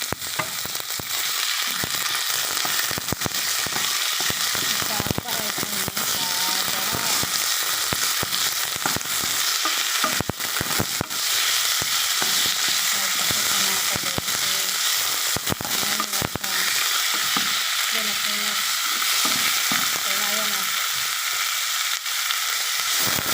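Meat fries in a pan for a vegetable soup, with a continuous crackling sizzle and scattered popping spatters through the whole stretch, close and steady.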